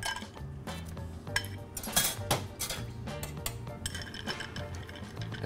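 Ice cubes clink and rattle against a cocktail glass in quick irregular bursts, crisp and close, with a few brighter knocks as more ice goes in.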